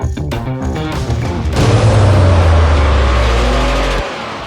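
A Porsche pulls away with a loud, close engine note that rises into a strong rev and sustained acceleration and then fades slightly as it drives off, with no talking.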